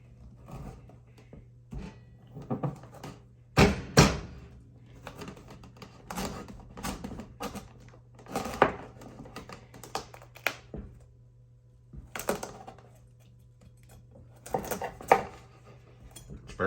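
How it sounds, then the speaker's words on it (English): Knife cutting down through a hard kabocha (Japanese pumpkin) to split it in half, sharp knocks and cracking thuds on a cutting board at irregular intervals over a steady low hum, close and fairly loud. "So I'm gonna cut down through it, split it in half,"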